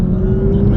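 BMW M2 engine held at part throttle, around 40 percent, a steady loud drone with a constant mechanical hum, close by with no break across the short stretch.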